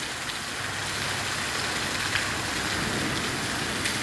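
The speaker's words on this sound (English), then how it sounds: "All of this from the rain." Heavy rain falls during a storm as a dense, steady hiss that fills the whole span evenly, close and loud, with no voices or other distinct sounds above it.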